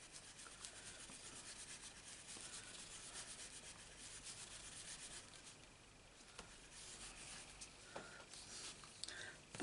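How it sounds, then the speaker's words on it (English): A brush dabbed with ink and swept diagonally across paper for Stampin' Up floral card stamping gives a quiet, steady scratchy rubbing, faint and close, with a small knock near the end. "Up the ink, and all I'm going to do is brush diagonally"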